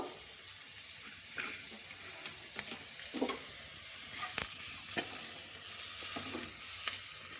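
Cumin and green chili fry in oil in a home kitchen. The sizzle is quiet and even, broken by occasional spoon taps and stirring scrapes, and it grows slightly brighter toward the end, with no voices.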